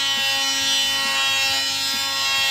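A close, loud, buzzing power tool runs steadily while working coarse 80 grit sandpaper over an old exhaust. The buzz carries a faint rhythmic pulsing and then cuts off abruptly at the end.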